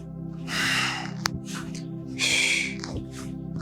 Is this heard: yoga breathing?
yes